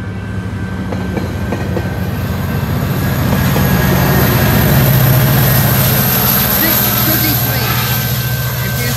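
A loud MP40 diesel locomotive engine rumbles steadily, building slightly in volume, with a low throbbing drone and rail clatter throughout.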